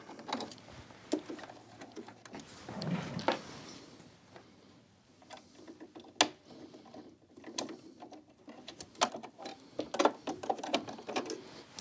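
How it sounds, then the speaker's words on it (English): Small clicks, taps and rattles come from taking the bobbin case and needle plate out of a Brother sewing machine. The sounds are quiet and uneven, with sharp ticks scattered over light handling noise and no talking. "right now I'm going to take my bobbin out, my bobbin case out, and we're going to remove our needle plate"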